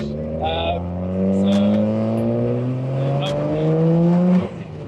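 A BMW 135 with a tuned N54 engine making over 500 kW revs hard, its loud, rising engine note close up and sustained for several seconds before dropping off sharply near the end.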